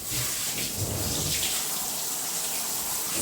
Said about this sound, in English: now I'll just rinse her off